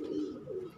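A domestic pigeon, an aged bird in a loft, coos in two soft rolling phrases close by, with no talking over it.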